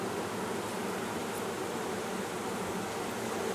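Honey bees buzz around an open hive being worked by hand, a steady dense hum close to the listener that never lets up, with no voices.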